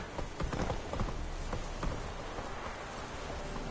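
Hooves of the horse Roach clip-clopping in The Witcher 3, a steady rhythmic trot with soft rain-like hiss and rustle in the background, no talking.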